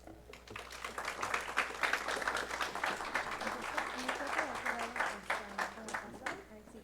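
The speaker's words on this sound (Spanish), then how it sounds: "Recibamos con un fuerte aplauso al doctor Andrés Héctor." An academic conference audience claps to welcome a speaker, a moderate wave of many hands building and holding for several seconds before tapering off, with faint voices underneath.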